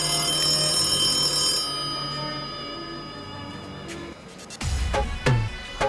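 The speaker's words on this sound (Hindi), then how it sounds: "फोन आ गेले।" A telephone rings in a room during a comic household scene, with steady bell-like tones sustained over the first few seconds, then fading under background noise before louder movement and bumps close in.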